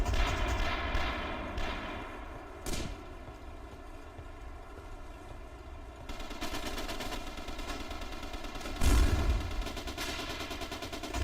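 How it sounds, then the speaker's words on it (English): Video game gunfire with repeated automatic bursts and scattered single shots, some distant and some closer, over a constant background engine drone. "I don't know from where all the firing is coming."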